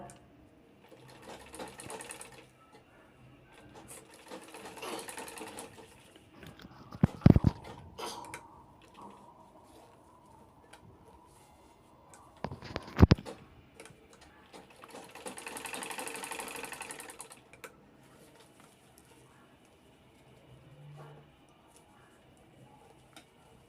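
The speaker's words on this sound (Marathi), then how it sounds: "इथे झिप शिवून घेते आहे मी आधी पॉकेटची" An electric sewing machine stitches a zip onto the pocket of a cloth shopping bag, whirring in several short runs with a couple of sharp clicks in between, fairly quiet and close.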